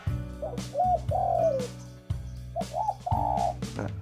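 A captive spotted dove sings a clear, high, small-voiced coo in two repeated phrases, close and fairly loud over a low background hum, with no talking.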